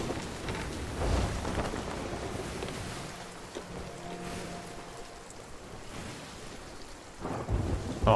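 Thunderstorm with heavy rain and rolling thunder at sea in a pirate sailing video game, with deep booming rumbles near the start and end over a steady wash of rain and surf.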